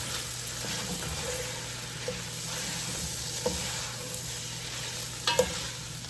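Linguine and mushrooms are tossed with tongs in a hot pan, giving a steady sizzle with soft stirring scrapes and a few light metallic clicks, close and fairly quiet.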